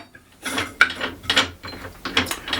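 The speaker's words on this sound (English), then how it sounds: "use your spanner just to squeeze it up and grip it." A spanner tightens an angle grinder's lock nut against the spindle lock in a series of close, sharp ratcheting clicks and metallic scrapes, about five short bursts.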